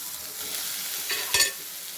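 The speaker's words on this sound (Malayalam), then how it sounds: "വേവിച്ച് വെച്ച ഉരുളക്കിഴങ്ങ് ചേർത്ത് നന്നായിട്ട് ഒന്നുകൂടെ വഴറ്റുക." Boiled potatoes sautéing in a pan with fenugreek leaf masala: a steady close sizzle with a brief scraping stir partway through.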